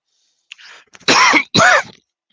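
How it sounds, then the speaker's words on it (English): Two hard, raspy coughs close up, preceded by a softer throat-clearing rasp, then silence. "Mouthful of cellulose sanding sealer to make me cough"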